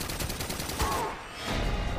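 Rapid gunfire in GoldenEye Reloaded rattles through the first second as a dense run of shots, then thins out briefly before a steadier burst of game noise returns.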